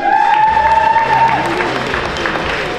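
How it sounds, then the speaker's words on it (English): An audience at a competition event applauds and cheers steadily and loudly, with a brief sustained tone sounding over the crowd noise near the start. "So please give them a huge round of applause."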